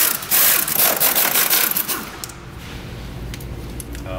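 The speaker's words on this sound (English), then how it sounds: "we're gonna go ahead and remove our crankshaft pulley now" A wrench or socket works loose the bolts on the crankshaft pulley of a Volvo S60 engine, giving loud close scraping, ratcheting and rubbing metal sounds in bursts that ease off into quieter grinding.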